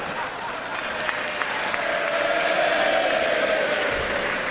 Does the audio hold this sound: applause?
yes